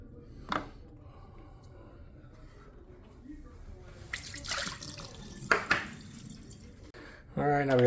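A baking soda and water solution is applied to soaked surfaces while detailing a BMW Z, giving short wet splashing hisses over a quiet background, with a louder burst near the end.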